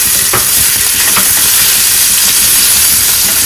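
Chopped ginger, garlic and green chilli sizzle loudly in hot oil, a steady close frying hiss with occasional stirring scrapes, no voices.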